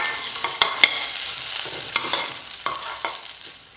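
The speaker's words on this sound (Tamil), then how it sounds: "இப்போ இந்த தேங்காய் துருவில் சேர்த்துக்கிறேன். தீ குறைச்சி வச்சுட்டு ஒரு 1 நிமிஷம் நல்லா வதக்கினா போதும்." Grated coconut is stirred and sautéed over low heat in a pan for a Tamil vathal kuzhambu, with soft scraping, spoon taps and a faint sizzle close by.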